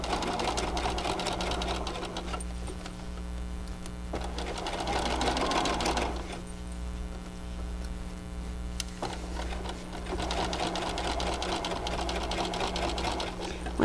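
Sewing machine stitching seams on a lined children's garment, running steadily and close with brief slower pauses and backstitching bursts, a constant motor hum underneath.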